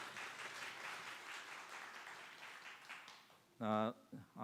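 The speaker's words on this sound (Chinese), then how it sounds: "我们拍手来欢迎" A church congregation at a Sunday worship service applauds in a soft, steady patter of clapping that holds for a few seconds, then fades as a brief voiced sound rises at the end.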